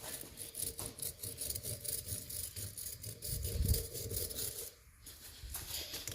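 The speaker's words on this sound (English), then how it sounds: "this will not mess up the threads as long as you're using just a wire brush" A wire brush scrubs the threads on the rear end of a 1971 Chevy truck, giving close, steady back-and-forth rasping strokes that briefly pause near the end before resuming.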